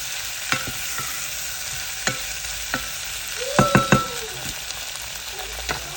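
Rajma beans cook in a pan over a medium flame, giving a soft continuous sizzle broken by a few sharp spoon scrapes and taps, with a quick cluster of stirring knocks midway.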